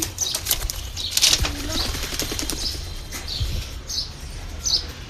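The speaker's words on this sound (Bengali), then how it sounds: "এখানে আছে হাই প্লেয়ার কবুতর" High flyer pigeons flutter their wings in a village loft, with rapid flapping bursts and short chirpy calls repeating close by over a low rumbling background.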